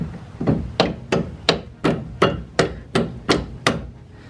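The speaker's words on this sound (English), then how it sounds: "You get a rubber hammer and you just hit them things out." Eleven sharp, evenly spaced rubber hammer blows on car parts during a coilover install, each a hard thud with a short decay, steady rhythm, loud and close with no voices.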